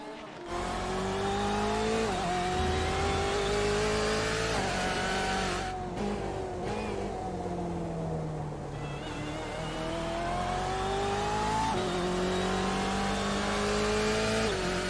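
Sports race cars at Daytona scream past at full throttle, engine pitch sweeping up and down through repeated gear shifts in a loud, continuous roar.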